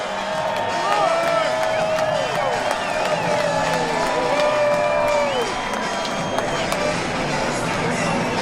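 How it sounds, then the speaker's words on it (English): A large grandstand crowd at Daytona International Speedway roars steadily as race cars pass, with engine tones sweeping up and down through a continuous wash of cheering and noise. "a big roar from the crowd as they come past"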